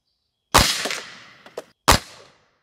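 Gamo Magnum Gen3 pellet gun fired outdoors at a water bottle, giving a loud sharp crack with a short ringing tail, a couple of faint ticks, then a second sharp burst.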